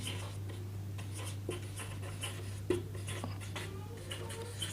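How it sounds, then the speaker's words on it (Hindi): Chalk or marker scratches in short, repeated strokes as a geometry lesson on triangles is written on a board. The strokes are soft and close over a steady electrical hum, with no talking. "तो सबसे पहले मैं लिखता हूँ ए डी"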